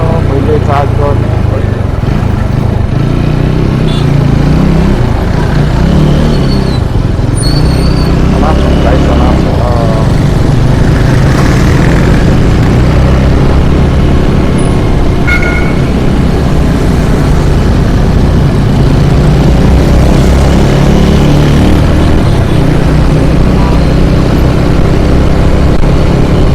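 A motorcycle with a freshly rebuilt engine is ridden at speed, a loud continuous engine roar mixed with heavy wind rush that rises and eases slightly over a long stretch.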